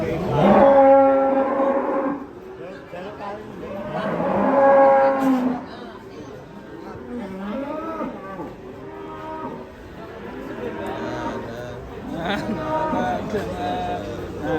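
Several loud, drawn-out cow moos ring out, some close and some farther off, as cows come down from a truck, with people talking in between.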